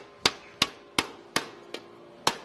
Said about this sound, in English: Let me hammer again.